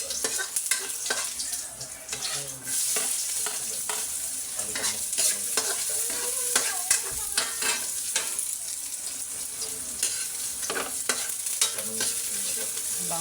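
Chayote sautéing in a pan, with a continuous close sizzle and frying hiss broken by repeated scraping and stirring strokes, loud and busy throughout, with no speech.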